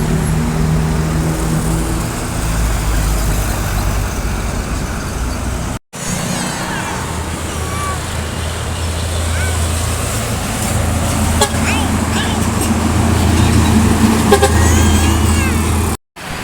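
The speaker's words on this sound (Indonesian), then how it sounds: "Masuk, ada bus lagi ya." Heavy road traffic rumbles throughout on a Sumatran highway with coal trucks, a passing tour bus's engine droning close by and a horn tooting briefly amid the steady roar.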